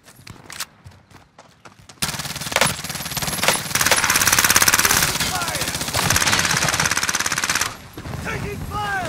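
Rapid automatic gunfire from a video game firefight with air strikes, loud dense bursts running steadily for several seconds after a quieter start with scattered shots, with voices talking underneath.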